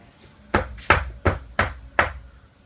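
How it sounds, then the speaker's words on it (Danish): Five firm knocks on a door, evenly spaced about a third of a second apart, loud and close with short hollow decays, followed by a quiet pause. "Over og banke på."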